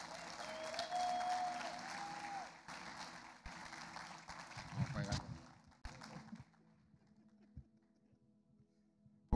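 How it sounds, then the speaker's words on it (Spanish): An audience at a Spanish-language church gathering applauds to welcome a guest prophet from Puerto Rico, a burst of clapping and crowd noise that swells and then fades into quieter room sound, with a voice faintly present. "recibamos con un fuerte aplauso"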